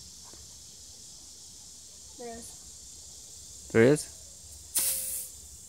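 Compressed air from the nozzle of a homemade air-powered rifle comes out in short sharp hissing bursts, one brief and faint, then two louder spurts near the end, with brief speech between them.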